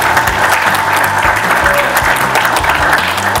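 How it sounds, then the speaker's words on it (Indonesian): A crowd at a campaign rally for the Lamongan regional election breaks into loud, continuous applause, thick overlapping clapping held at a steady level throughout, close and without speech over it. "boleh tepuk tangan"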